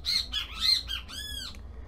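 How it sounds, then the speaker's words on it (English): Birds squawk just outside, a quick series of four or five sharp, shrill calls close by and clearly audible. "those are my lovely bird neighbors. They've come to say hi."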